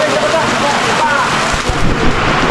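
Heavy rain drums steadily at a farmhouse while a low rumble of thunder rolls beneath it, the downpour loud and continuous throughout.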